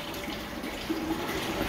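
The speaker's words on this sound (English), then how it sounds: "So we got water coming through." Water rushes through brewery pipework as a pump primes, a steady broadband hiss and gurgle with no pauses across the short stretch.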